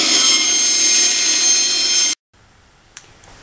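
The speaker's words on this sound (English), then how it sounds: "And cut it out on the bandsaw." A loud, steady high-pitched whine of a bandsaw running through clear pine for about two seconds, then it cuts off abruptly, leaving near silence and a small click.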